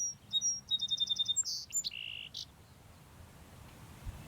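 Birds sing outdoors, with a run of quick high chirps, a few sweeping whistled notes and a sustained tone, then quieter background chirping over low ambient noise.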